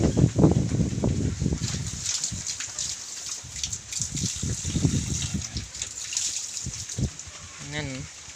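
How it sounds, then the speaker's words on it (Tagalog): Water poured for native pigs splashes and trickles steadily, with pig grunts and a short high squeal near the end; no clear speech. "Lagyan natin ng tubig."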